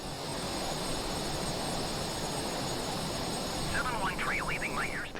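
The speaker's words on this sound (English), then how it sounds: "You'll hear a fairly generic jet engine whine as the airplane accelerates." A Northrop Grumman B-21 Raider in Microsoft Flight Simulator accelerates with a steady, loud, generic jet-engine roar and whine, with a faint warbling tone entering near the end.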